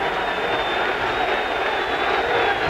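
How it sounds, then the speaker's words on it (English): A large football crowd at a Chargers vs Raiders game in San Diego gives off a steady, dense roar of cheering that continues evenly throughout, with no single voice standing out. "And listen to the crowd get into it"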